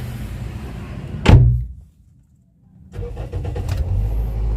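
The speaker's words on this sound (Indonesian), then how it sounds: "Kita nyalakan mesinnya." A 2012 Toyota Yaris E automatic hatchback's engine cranks and catches with a loud burst, drops briefly to near silence, then settles into a steady close idle hum.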